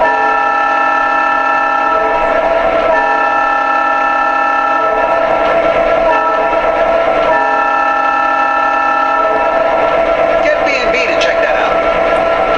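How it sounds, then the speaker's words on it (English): Horn effects from an MTH Pennsylvania Railroad E-8 A-B-A model diesel set: a steady electronic horn with short toots and longer blasts repeating across the stretch, loud and close, with a faint mechanical hum beneath. "Here's some of the horn sound effects. You got the single hit horn, the forward signal, reverse signal, and the crossing sound"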